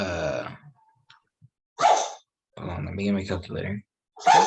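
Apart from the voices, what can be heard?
sneeze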